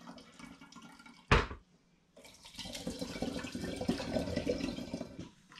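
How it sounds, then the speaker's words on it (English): Spring water is poured into a saucepan while home-brewing an all-grain rauchporter: a short splash, a pause, then a steady, fairly close stream of pouring and sloshing water that fades at the end. "I'm just adding a little more spring water into a saucepan."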